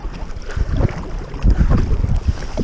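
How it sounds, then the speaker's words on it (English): Kayak paddle splashing and sloshing in shallow, knee-deep marsh water, a steady stream of close, irregular watery churns with some wind rumble on the microphone. "I'm gonna check the depth with my paddle"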